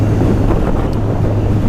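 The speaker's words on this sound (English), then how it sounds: "it's really windy throwing the bike around" Heavy wind buffets the microphone of a rider on a motorbike, a loud, constant low roar with no break and no voices.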